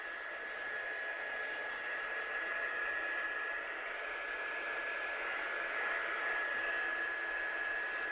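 A heat tool blows a steady, loud whooshing hiss with a faint high whine throughout, drying watercolour paint on a handmade card ahead of heat embossing. No one talks.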